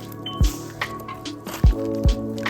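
Homemade New Year slime mixed with clay being squished by hand, giving three loud, close wet squelches with quieter sticky crackles between them, no voices.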